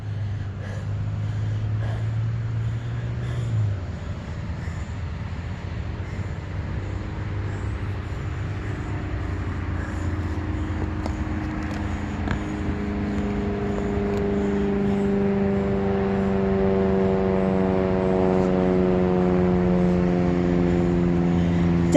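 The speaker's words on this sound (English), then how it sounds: "I'm not sure if you can hear that airplane overhead" A propeller airplane passes overhead above Fort Ethan Allen Cemetery in Colchester, Vermont, a steady droning hum that swells gradually louder over about twenty seconds against quiet outdoor background.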